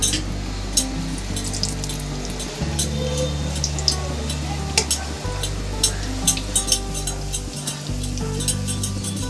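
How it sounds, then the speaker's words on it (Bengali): A whole roti fries in hot oil in a wok, producing a loud, close, continuous sizzle with scattered crackles and pops over a low hum, no talking. "আমি এবার গোটা রুটিটাকে ভেজে নেব।"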